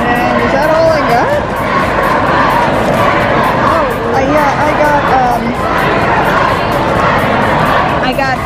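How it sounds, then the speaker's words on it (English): A dense crowd at the Anthrocon 2019 furry convention cheers and whoops over constant loud chatter and hubbub, a continuous, close-sounding roar with no breaks. "Cheering about over there"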